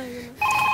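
A mobile phone rings on a Marathi comedy stage show, a sharp electronic tone sustained and steady after a brief lull in a prior tone, close and loud.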